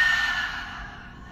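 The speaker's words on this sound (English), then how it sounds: "Open mouth, exhale." A single open-mouth exhale during a home yoga practice, a breathy sigh-like rush of air that is loudest at the start and fades over about a second, close and alone with no talk.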